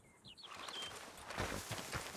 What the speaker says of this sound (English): I hear a lot of birds around.